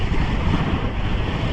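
Outdoor breeze rushes and buffets steadily in a dense, continuous roar of wind, close and fairly loud, with no voices.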